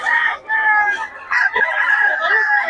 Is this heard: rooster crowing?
yes